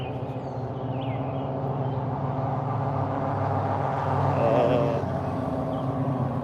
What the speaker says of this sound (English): This loud car coming behind me, as you can see.